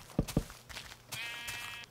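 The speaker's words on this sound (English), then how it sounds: "Oh no, I just hit a black sheep." Black sheep in Minecraft bleating after being struck, two quick sharp hit thuds followed by a drawn-out bleat, clear and close against light game background.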